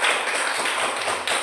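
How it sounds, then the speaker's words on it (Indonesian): Classroom pupils clapping for a group of classmates, a brief dense patter of many hands heard at moderate volume, with no one speaking over it. "Tepuk tangan untuk kelompok 3."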